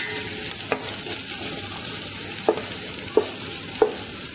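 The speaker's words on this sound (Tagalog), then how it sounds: "Isa na po natin yung ating sibuyas." Sliced onions for Filipino balbacua sautéing in a pan, a steady soft sizzle with occasional sharp clicks of a utensil stirring against the pan, no voices.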